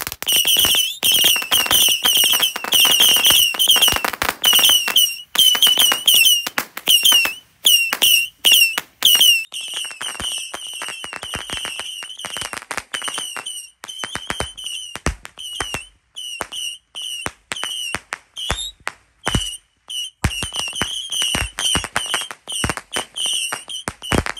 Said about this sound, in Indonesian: Selanjutnya kita nyalakan mercon misil sweet tor.